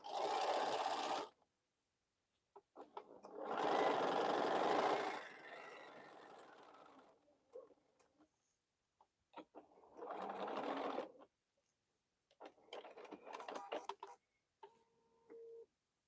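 A multi-needle embroidery machine quilts in the hoop with 100% cotton 30-weight thread, giving rapid mechanical stitching in several bursts of a few seconds each, broken by pauses, clicks and a few small beeps.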